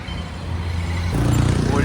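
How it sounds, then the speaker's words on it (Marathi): Heavy road traffic in Nala Sopara, a steady low rumble of vehicles that grows louder and fuller partway through, with no talk over it. "फुल ट्रॅफिक नाला सोपारा"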